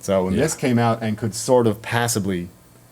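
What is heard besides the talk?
No distinct noise like a dog, phone or traffic.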